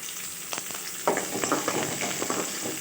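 Green chillies and a piece of ginger frying and being stirred in a pan for a traditional Tamil fish kozhambu, with steady close sizzling and a few scraping stir strokes, no talking.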